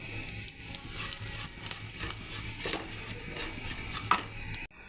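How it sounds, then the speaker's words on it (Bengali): Vermicelli with almonds and raisins being fried in a pan, with a steady low sizzle beneath repeated scraping and stirring strokes of a utensil against the pan, close and moderately quiet. "বাদাম কিশমিশ সেমাই ভালো করে ভেজে নেব।"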